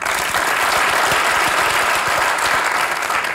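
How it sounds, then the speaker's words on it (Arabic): Loud audience applause at a stand-up comedy show, a dense sustained burst of clapping from a large crowd that fills the whole stretch. "صفقوا لي على"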